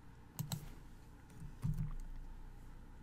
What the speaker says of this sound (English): Click on the navigation bar and press Alt F keys to open up the menu.